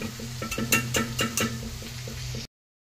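Onion, tomato and ginger-garlic paste sautéing in a pan, with a steady sizzle under a series of spoon-against-pan scrapes and clinks, then an abrupt stop into silence.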